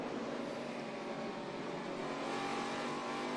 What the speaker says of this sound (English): as you can hear him get on the throttle, too